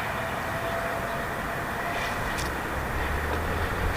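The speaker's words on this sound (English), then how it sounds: "the maiden flight of the brand new Freewing twin 64mm F-14 Tomcat" A Freewing twin 64mm EDF F-14 Tomcat RC jet in flight on its maiden flight, a steady broadband ducted-fan whoosh holding at even loudness throughout, with wind noise mixed in.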